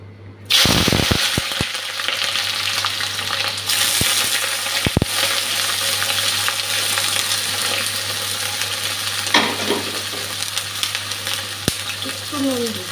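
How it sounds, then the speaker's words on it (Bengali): Eggplant fries in a pan with a continuous hiss and crackle, broken by several sharp clinks and scrapes of a utensil near the start and again later, with little speech. "বেগুনটা আগে ভেজে নিচ্ছি।"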